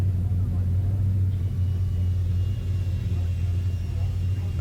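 Patrick Watts's Mazda touring car at Teretonga Park Raceway: a low, steady engine rumble held close for several seconds, a constant drone with no clear revving peaks.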